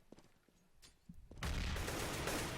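Shotgun fire in a Counter-Strike match: a few faint, scattered shots and game sounds, then a loud, dense burst of rapid gunfire that holds steady through the end.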